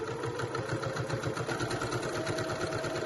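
A sewing machine runs steadily while stitching a drawstring bag seam, giving a fast, even mechanical whir with a regular rapid pulse that stays constant throughout.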